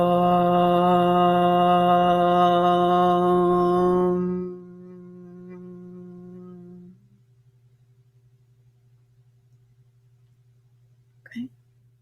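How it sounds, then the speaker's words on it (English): A sustained chanted tone on the Tibetan seed syllable Ram, rich in overtones, holds steadily for several seconds, then thins to a quieter lingering hum that fades to a faint drone. "the Tibetan seed syllable for this is Ram"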